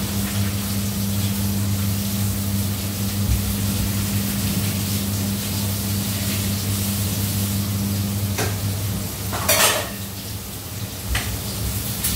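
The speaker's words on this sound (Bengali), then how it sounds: "তো এখন এই আলু বরবটিটা ভাজবো" Potatoes and yardlong beans fry in a pan with a steady, even hiss over a low, constant hum, and a couple of brief clatters near the end.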